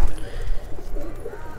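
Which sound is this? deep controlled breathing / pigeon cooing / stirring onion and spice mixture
pigeon cooing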